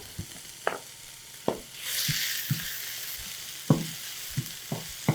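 Finely chopped onion with garlic sautéing in a pan, a soft sizzle rising under a series of sharp stirring taps of a spoon against the pan, no talking.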